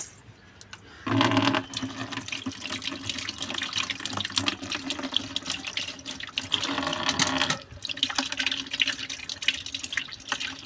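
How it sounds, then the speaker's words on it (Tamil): Freshly picked eggplants washed under running water, with two louder bursts of gushing flow and steady splashing and trickling in between, close and without talk. "பாருங்க எல்லாத்தையும் நல்லா கழுவி எடுத்துக்கலாம்"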